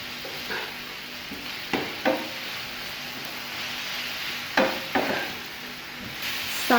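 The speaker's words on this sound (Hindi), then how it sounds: "अच्छी तरह से इनको मिक्स कर लेना है।" A spoon stirs spices into chicken pieces in a hot pan for a fajita sandwich, making a soft steady sizzle broken by a few sharp scrapes and knocks against the pan.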